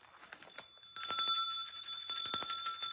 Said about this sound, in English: where's my bell? I was supposed to ring it.